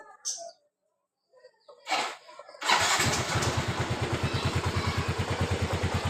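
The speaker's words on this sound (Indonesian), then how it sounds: "Motor setelah dibersihkan throttle bodinya langsam udah enak." Yamaha Mio 125 scooter-style motorcycle, its throttle body freshly cleaned, firing up after a few faint sounds and then settling into a steady, even idle putter close by.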